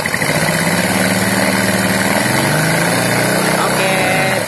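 Yamaha Vega R motorcycle engine with a newly fitted aftermarket piston runs loud and close, idling with a buzzing, rapid rhythm before being revved higher, the pitch rising and wavering over a steady mechanical rattle.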